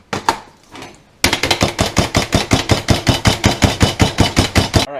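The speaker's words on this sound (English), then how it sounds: "Sometimes I might think of getting my little magic chopper. That's this thing, and see if I can get this to chop it a little faster." A hand-operated magic chopper pounding rapidly through garlic and green and red peppers, a fast even train of sharp chopping clacks close by after a brief quieter pause at the start.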